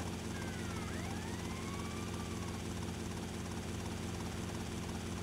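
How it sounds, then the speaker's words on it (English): Helicopters in GTA Vice City make a loud, continuous rotor drone, with siren-like wails sweeping across it near the start. "Nah, there's two helicopters right now."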